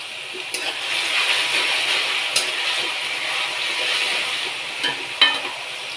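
Potatoes frying in a pan with bottle gourd, salt and turmeric give a steady, close sizzle, broken by a few brief stirring scrapes and clinks.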